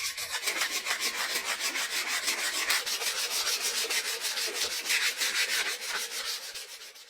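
Steady, rhythmic rubbing strokes of sandpaper across dried body filler on a rusty 1975 Tonka toy truck under restoration, close and continuous with no pauses and no voices.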